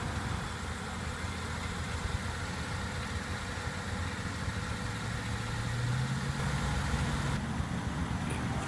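A 2014 BMW X6 xDrive35i idling at a steady low rumble, close and continuous, with no voices over it.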